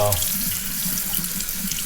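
Tap water runs steadily over a Harley-Davidson air filter being rinsed in a sink, a continuous broadband splashing rush that fills the whole moment, close and fairly loud with no talking.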